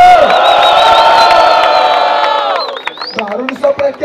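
A loud, sustained crowd roar and cheering at a Brazilian rap battle, the Batalha do Coliseu, with whoops and shouts. It holds steady, then breaks into scattered yells near the end.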